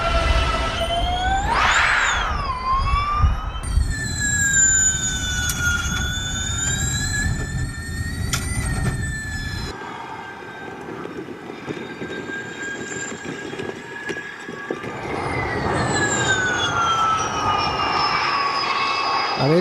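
Formula E electric race cars driving past on a circuit, rising and falling high-pitched electric whines with Doppler sweeps over a broad rumble of track and crowd noise, several passes in succession, loud and continuous.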